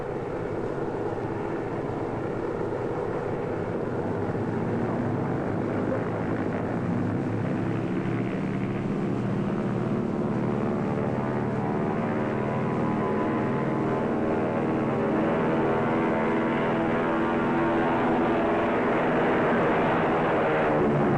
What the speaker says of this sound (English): Tower to Flight 34, you may take off on runway C.